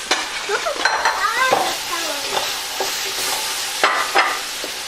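Onions added to a pot for New England clam chowder sizzle steadily while a spoon stirs and scrapes in irregular strokes, close and fairly loud, with no talking.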